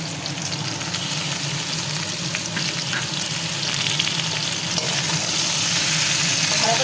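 Grated ginger, tomato and green chilies frying in oil, a continuous loud sizzle with occasional scraping and stirring sounds, close by and steady with no talking.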